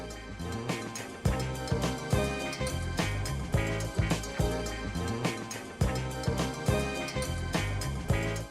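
A jazz funk record loops as a dense funky groove with punchy drums, bass and layered instruments, playing loud and steady with a repeating rhythmic pattern.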